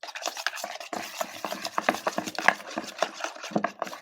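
A foam mixture being stirred and whisked in a container, soft irregular scraping and swishing strokes in a quick uneven rhythm, close and fairly quiet.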